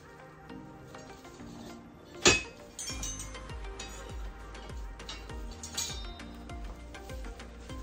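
Cutlery clinks and rattles nearby as a knife is fetched in a home kitchen, with one sharp metallic clink standing out among scattered lighter taps and rustles.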